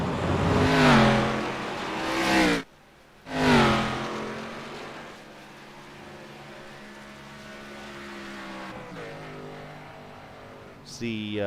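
Race cars in an ARCA series racing video game sweep past on track with rising and falling engine whines, and a steady engine drone continues beneath ongoing commentary.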